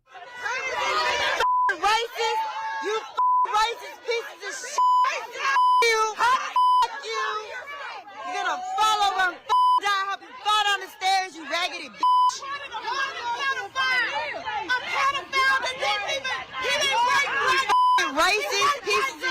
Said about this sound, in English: There's a lot of beeps here, but I think you'll get the idea.